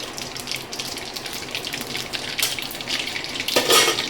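Cumin and mustard seeds fry in hot oil for vegetable upma, a dense, hissing crackle that stays steady and close, swelling a little louder near the end.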